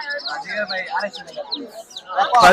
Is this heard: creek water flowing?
no